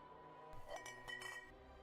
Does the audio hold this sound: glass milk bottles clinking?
yes